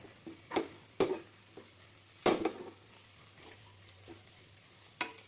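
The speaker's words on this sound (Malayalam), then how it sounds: "ഒന്നും കൂടി ഒന്ന് ഇളക്കി നന്നായിട്ട് മൂപ്പിച്ചെടുക്കാം" Chili and coriander powder roast in a pan with a quiet, steady sizzle, broken by a few distinct scrapes and knocks of a spoon against the metal as the powder is stirred.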